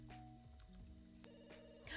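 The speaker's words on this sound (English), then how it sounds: "The phone's ringing." A telephone ringing in The Sims 2, a faint, tonal electronic ring with repeating stepped notes under quiet game background sound.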